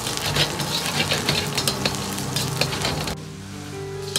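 Ginger and scallion stir-fry in hot oil in a wok with Sichuan pepper, chillies and star anise, giving a loud, dense sizzle with spatula scrapes that drops abruptly to a quieter hiss near the end.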